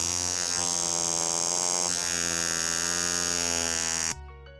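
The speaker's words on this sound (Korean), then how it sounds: "세계 최초의 알람 시계이자 해리 트루먼부터 아이젠하워, 린든 존슨까지 미국 대통령들의 시계로 알려진 크리켓" A Vulcain Cricket mechanical alarm watch rings with a harsh, continuous metallic buzz that is loud and close, then stops abruptly near the end, leaving faint low hum.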